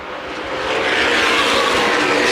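Late model sportsman stock cars racing at Winchester Speedway in a 2010 CRA championship race, a loud continuous engine roar that swells as the pack draws near, with no talk over it.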